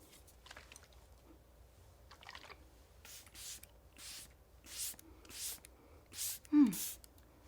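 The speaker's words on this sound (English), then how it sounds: "And now I'm gonna do one more coat of setting spray." Several short bursts of a makeup setting spray bottle hiss in quick succession, close by, with soft breathing between them.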